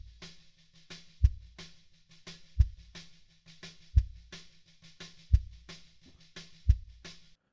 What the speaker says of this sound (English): here's the sound of the kick.